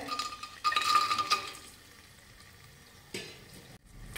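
Peanuts, cashews and almonds tossed with green chilli in hot ghee, a soft sizzle with a few spoon scrapes and clinks against the pan, quiet and close.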